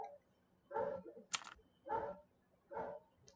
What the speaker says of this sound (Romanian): dacă auziți un câine, îmi pare foarte rău